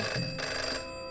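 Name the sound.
telephone ringing in Codename Typhoon video game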